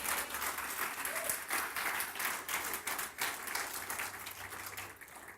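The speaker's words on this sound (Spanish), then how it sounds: "Dile un aplauso al Señor por eso" A church congregation claps in praise during a sermon, steady, fairly even applause from many hands that carries on for about five seconds before tapering slightly.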